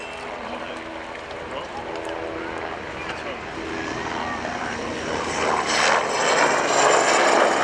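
Agusta A109 helicopter of the Belgian Air Component performing at the RIAT 2018 Fairford airshow, a broad rushing engine roar that grows steadily louder as it approaches.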